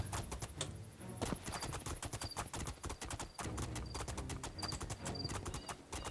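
Horse hooves clip-clop in a steady, rapid rhythm on hard ground in the fantasy game Two Worlds 2, the hoofbeats close and continuous with no talk over them.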